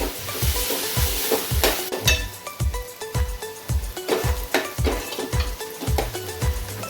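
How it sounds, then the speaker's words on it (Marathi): Onions frying with a pinch of salt in a pan, a steady sizzle under regular scraping strokes of a spatula, close and loud throughout with no talking. "कांदा लवकर फ्राय होण्यास मदत होते"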